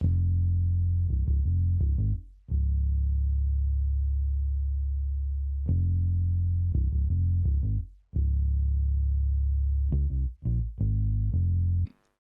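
A deep Rickenbacker electric bass sample plays a short riff of plucked, sustained low notes with quick fills, repeated twice, clean and prominent.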